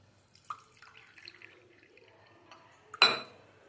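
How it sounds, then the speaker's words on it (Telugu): Water is poured from a tea glass into a pot, with a few soft drips and small knocks before a short, bright splash and gurgle of pouring near the end, close and otherwise quiet. "4 గ్లాసులు వాటర్ పోసుకుంటున్నాను."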